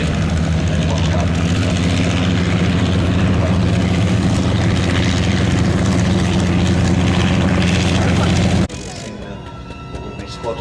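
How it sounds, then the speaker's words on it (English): Two Fokker triplanes flying in formation at an airshow, a loud, continuous propeller drone that cuts off abruptly near the end, leaving quieter background with a voice. "First off is going to be the Bolts with the two Fokker triplanes in big formation"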